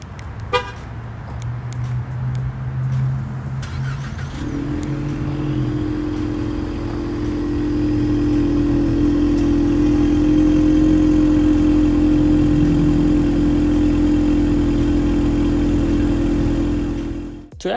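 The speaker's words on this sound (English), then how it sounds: "Start it right up." A 2020 Ford Mustang EcoBoost convertible starts after a few clicks, its engine catching and settling into a steady, loud idle that holds for over ten seconds with a brief rise in revs, no talk.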